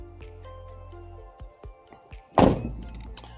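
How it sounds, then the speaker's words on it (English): A solid truck door thunks shut once, preceded by a few light taps and an engine hum that cuts off; no talking. "The door, there's no damage. It opens and closes properly."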